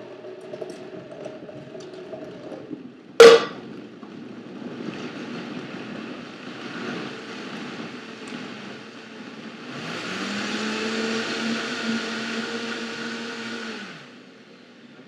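A blender whirs through a green smoothie of celery and Brussels sprouts, with a sharp clunk as produce drops in, then a steady motor drone that rises in pitch and intensity before cutting off near the end.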